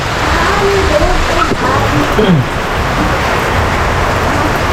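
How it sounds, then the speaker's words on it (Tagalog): Steady, dense rain pours down throughout in Bicol, Philippines, a constant hiss of heavy rainfall with faint low rumbling beneath it. "Lakas ng ulan talaga."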